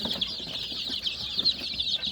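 Twelve-day-old chicks cheep in a dense, continuous chorus of high peeping, close by and fairly soft.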